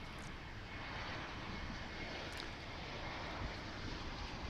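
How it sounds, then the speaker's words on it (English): American Airlines airliner arriving at DFW International Airport, a broad, faint roar of engine and wind noise held steady throughout, heard from a distance with no talking. "So here comes American Flight 1215 coming in from Puerto Vallarta in Mexico."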